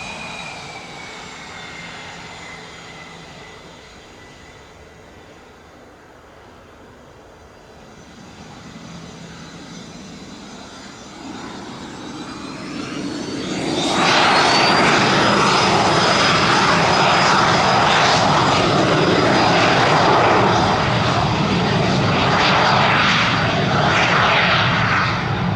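A Cessna Citation business jet takes off from runway 26 left at Spirit of St. Louis Airport, its whining engines building from a moderate hum to a loud, sustained roar with a rising turbine tone.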